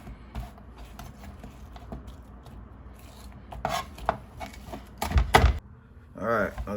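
A knife chops onions on a cutting board in a kitchen, with scattered close taps and a quick cluster of firmer cuts near the end, mixed with handling noise.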